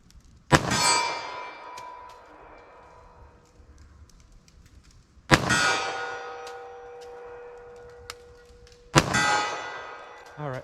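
Three .45 ACP pistol shots at a 25-yard range firing Sig Sauer V-Crown ammunition, sharp loud cracks spaced several seconds apart with ringing decay after each.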